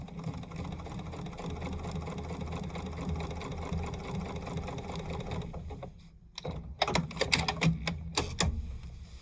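A sewing machine stitches quilt pieces placed right sides together at an angle, a steady mechanical whir that stops near the end and gives way to a few louder, uneven knocks and clicks.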